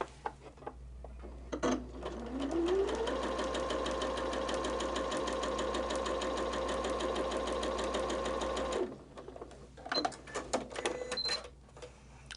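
A domestic sewing machine with a quarter-inch foot stitches quilt pieces for a pineapple block at a standard stitch length. It spins up into a steady, fast, rhythmic whir for about six seconds, then stops, followed by a few scattered clicks and handling noises.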